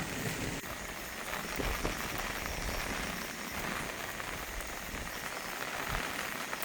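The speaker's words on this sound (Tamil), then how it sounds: "3 நாளாக தொடர்ந்து மழை தான் பெய்து கொண்டிருக்கு." Steady rain falls on a farm after days of downpour, a dense even patter of drops on surfaces, moderately loud and unbroken.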